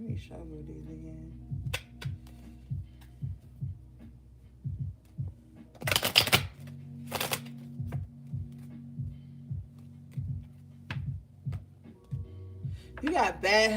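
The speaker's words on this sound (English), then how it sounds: "let me shuffle these again." A deck of tarot cards is shuffled by hand: soft, repeated riffling taps come close and quiet in a quick, slightly irregular rhythm over a faint background hum.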